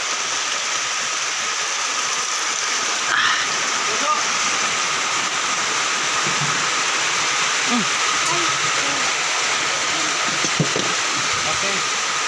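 Steady broadband hiss of rain falling outdoors during cooking, with a few faint clinks and knocks in the background and no clear voices.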